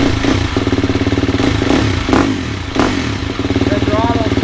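New 250 dirt bike engine running close by with a steady throbbing, pulsing rumble and slight rises in revs, loud and continuous throughout.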